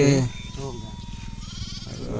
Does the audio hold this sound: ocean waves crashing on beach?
no